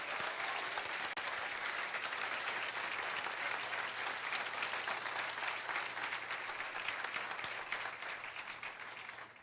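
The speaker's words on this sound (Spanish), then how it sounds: "Denle un aplauso al Señor." A church congregation gives sustained applause to the Lord, a thick continuous patter of many hands clapping at moderate distance, steady throughout with a low hum beneath and no voices standing out.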